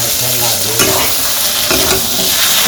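Fish and water lily stems are stirred together in a frying pan during village home cooking, a continuous loud sizzle with scraping spatula strokes close by.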